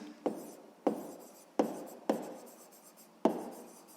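A math answer written by hand, most likely pen on paper: five separate sharp strokes at uneven intervals, each fading quickly, close and quiet, with no talk.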